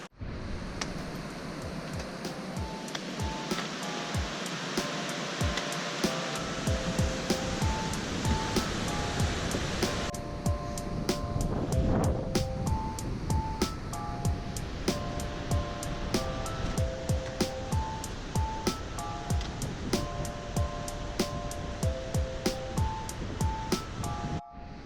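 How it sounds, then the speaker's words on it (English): A waterfall on the Mist Trail to Half Dome roars with a steady, loud, unbroken rush of water, with faint tonal notes sounding over the noise. "This is the most awesome waterfall I've ever seen."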